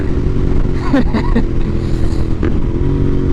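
A Royal Enfield Interceptor 650 motorcycle engine revs hard on a country road ride, a loud, steady engine roar close to the rider with wind buffeting and a few brief rising rev bursts throughout.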